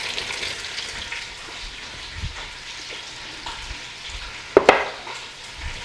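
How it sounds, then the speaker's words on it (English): Chicken browning in a frying pan gives a soft, close crackle and spatter, with a few sharper pops and a louder burst near the end. No talk is heard. "So the chicken is going to brown."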